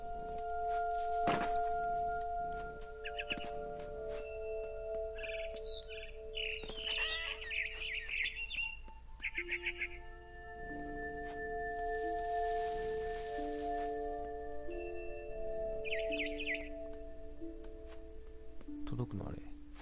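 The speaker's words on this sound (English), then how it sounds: "I tried to be quiet, but the bird was really scared." Scared bird calling in the video game What Remains of Edith Finch, giving sharp chirps and squawks in several short bursts over sustained game music tones and ambience.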